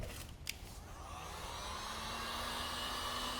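A heat gun blows a steady, breathy stream of hot air onto wrinkled heat-reactive cast vinyl wrap. The sound holds at an even, moderate level from start to finish, with a faint tone rising underneath and a couple of brief clicks near the beginning.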